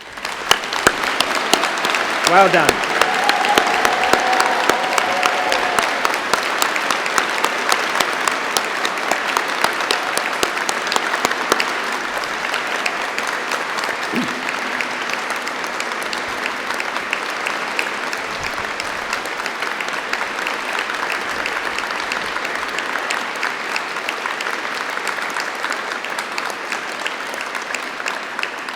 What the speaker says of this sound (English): for us all to give them one more thunderous round of applause.